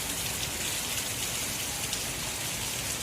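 Heavy rain pours outside in monsoon weather with drains overflowing, a dense steady hiss and patter filling the whole moment, constant and loud with no voices.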